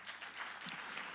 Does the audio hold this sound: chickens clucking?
no